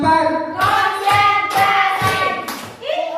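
A group of school teachers at a leadership training session claps a patterned counting game: bursts of several quick claps separated by short pauses, close and crisp, with voices calling out between sets.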